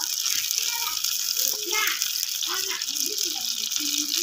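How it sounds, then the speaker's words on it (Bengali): Water is poured into a pot of radish curry on the stove, a continuous close gushing splash under a voice and a child's chatter nearby. "জল দিয়ে দিলাম"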